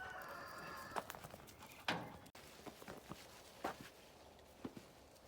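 Chickens clucking and scratching nearby, with a few soft footsteps and brief rustles in a quiet outdoor setting.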